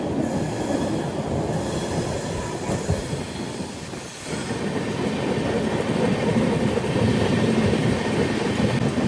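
A train rumbling along at speed over the Godavari river bridge at Rajahmundry, with continuous rattling and clattering wheels and a loud, steady roar heard from close on board.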